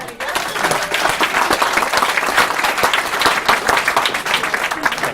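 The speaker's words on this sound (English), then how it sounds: "Well done, clap." Steady audience applause at an awards moment during the Oz Force 2014 event, dense clapping from a crowd filling the room at an even, loud level throughout.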